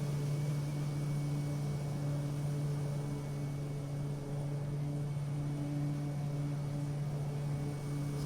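A propeller plane engine in a VR flight simulator game hums steadily, a constant droning tone that holds at an even level for several seconds with no talk.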